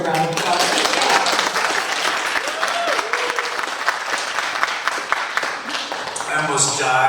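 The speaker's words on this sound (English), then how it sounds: "that does deserve a round of applause." Audience applause fills a convention Q&A panel, sustained clapping from a crowd throughout, with voices talking over it near the end.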